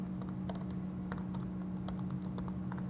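Fast, steady clicking of a computer keyboard as someone types out code, close and clear with no talking.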